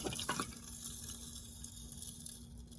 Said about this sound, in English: I'm going to be using the same bottled water. So I'm going to add that now to the salt water.